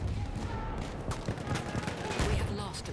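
Rapid bursts of gunfire in the Battlefield 1 video game, played on Xbox One, come as dense overlapping shots and fusillades at moderate loudness over several seconds.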